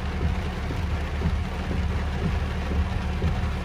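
Heavy rain pouring during a thunderstorm in Big Bear, California, a dense, continuous hiss with low rumbling underneath, steady and fairly loud, with no voices.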